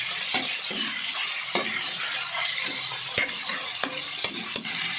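Octopus for adobong pugita fries in a pan with a constant close sizzle, punctuated by several sharp clicks and scrapes of a utensil stirring, no speech.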